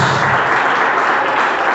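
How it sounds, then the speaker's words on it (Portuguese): Loud, dense applause from a crowd, steady clapping filling the space for a couple of seconds. "Aplauda Jesus, em nome do Senhor."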